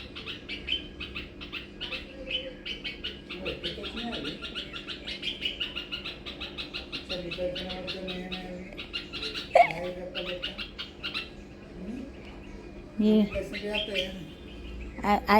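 Birds keep up a busy chatter of chirps and calls, with a few louder, sharper cries standing out now and then.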